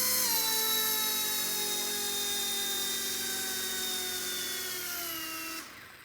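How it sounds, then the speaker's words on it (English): A BO-105 RC model helicopter whines loudly and steadily up close as it lifts off, the high rotor and motor tone holding for several seconds before dropping sharply near the end. "We're going to pick it up."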